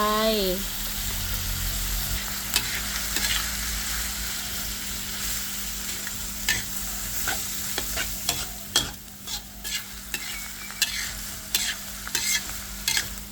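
Bamboo shoots and pork belly are stir-fried in a pan with light soy sauce added, a steady close sizzle under repeated scraping stirs of the utensil, with a brief pour at the start and no talking.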